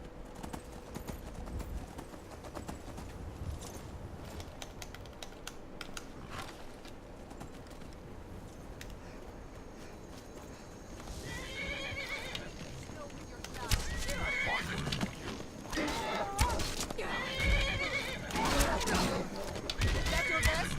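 A horse in the video game Skyrim whinnies loudly several times with hoof clip-clops, while someone talks over a busy game soundscape of thuds and scuffles.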